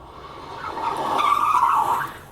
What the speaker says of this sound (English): that skirting sound is not a sound effect.